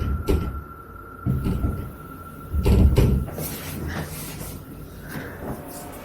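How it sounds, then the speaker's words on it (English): A door handle rattles and jingles with dull thumps against the door from outside, several bursts of knocking and clattering spread over a few seconds, with a faint steady hum underneath. "something sounds like it's jingling the door handle"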